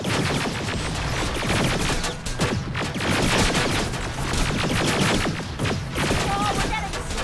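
Heavy sustained gunfire from the video game Terminator Annihilation Line, dense rapid automatic bursts and shots filling the whole stretch loudly and without pause, with shouted voices mixed in.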